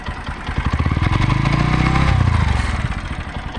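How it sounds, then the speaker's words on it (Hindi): A Bajaj Pulsar NS 125 motorcycle exhaust burbles loudly up close, its rapid pulsing note swelling and then easing off over a few seconds. "तो गाइस यहाँ पे एग्जॉस्ट सुन सकते हो"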